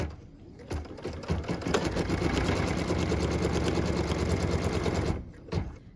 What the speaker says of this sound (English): What we're stitching now is the tack down line for piece number 3